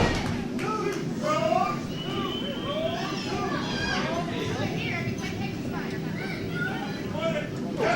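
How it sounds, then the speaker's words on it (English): Wrestling crowd at a ProSouth Wrestling event, loud and constant as fans rally behind Jay Too Strong, with a busy wash of voices and shouts filling the whole stretch. "The crowd getting behind Jay Too Strong."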